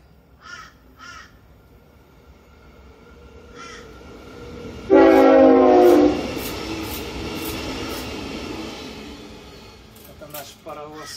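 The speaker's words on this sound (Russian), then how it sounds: "Это наш паровоз вперед летит за забором." A train rushes past behind a fence in Brisbane at dusk, a loud steady roar with a horn blast swelling for about a second mid-clip, then fading; crows caw faintly before and after.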